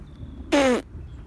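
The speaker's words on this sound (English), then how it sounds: "Hey, someone's farting." A single close, loud fart lasting about a third of a second, a buzzy, reedy blast that falls slightly in pitch, heard outdoors while waiting for a severe thunderstorm against a quiet background.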